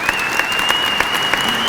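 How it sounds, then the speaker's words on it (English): An audience applauds at a Hispanic Heritage Month closing ceremony, a dense, steady wash of clapping with a faint high tone running through it and no voices. "I really want to give us a round of applause for everything that we are doing out there"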